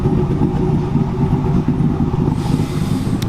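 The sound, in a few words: cammed car engine idling with choppy exhaust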